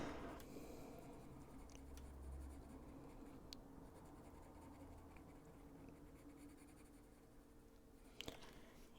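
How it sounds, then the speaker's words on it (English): A colored pencil scratches steadily across paper while coloring, a faint, close, continuous scratchy stroke in a quiet room, with a few sharper taps near the end. "I don't think he likes the pencils. They make too much noise for him."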